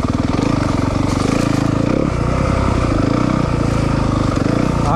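A 2023 Yamaha 250FX dirt bike engine roars loud and close throughout, a steady rapid buzzing drone with a brief dip in throttle partway through as it is ridden.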